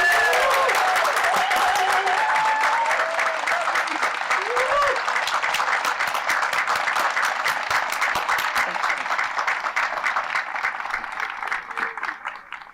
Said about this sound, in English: I invite everyone here to join me in a round of thunderous applause for Dean